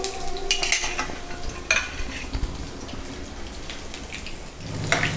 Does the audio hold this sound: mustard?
yes